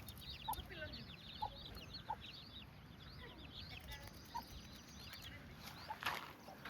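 Hungry ducks call again and again at a farmyard, with short bursts scattered over steady outdoor background noise and faint voices nearby.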